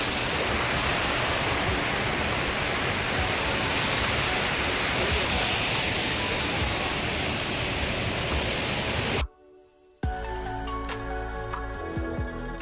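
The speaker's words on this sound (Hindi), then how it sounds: "वाटरफॉल।" Roaring rush of a waterfall in a wooded village area, loud and constant broadband noise filling the scene before cutting abruptly to quieter surroundings near the end.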